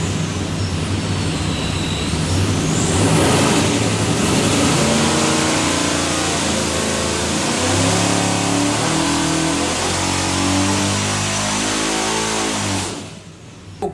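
A Vortech-supercharged 427 small block Ford in a '69 Mustang roars through a dyno run, a loud continuous engine note climbing in pitch as it revs, then cutting off abruptly near the end.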